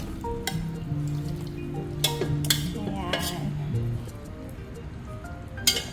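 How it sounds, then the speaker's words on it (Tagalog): Ginger and garlic sizzling in a pan while being sautéed, with steady frying hiss and several sharp clinks of a utensil against the pan, close up. "Kasi ginigisa ko nga po."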